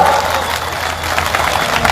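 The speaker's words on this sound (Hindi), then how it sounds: "तालियां बजा दो यार" A crowd at a political rally claps, with dense steady applause filling the air close by and loud throughout.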